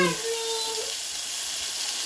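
Jellyfish frying in a pan of hot oil, a steady close hiss and sizzle that holds evenly throughout without pause.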